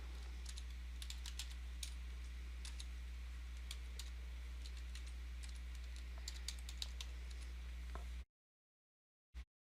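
Steady typing on a computer keyboard while entering contact information, light rapid key clicks over a low steady hum, stopping abruptly near the end with one final brief click.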